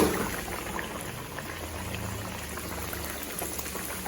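Chiroti pastries deep-frying in oil in a small kadai, a continuous soft bubbling sizzle that stays fairly quiet and even throughout.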